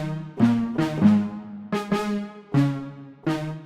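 Synth horn from the Modernize VST played through a pluck envelope, giving short staccato stabs: several separate clipped notes at a steady pace with quick decays, clear and alone.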